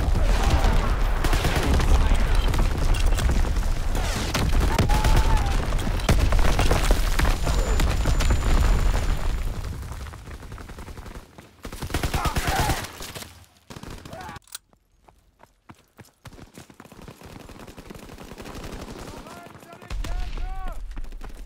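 Heavy artillery barrage and gunfire in Call of Duty WWII, a loud rumbling wall of explosions and shots that gradually thins to scattered bursts, then drops to near quiet before a final rise.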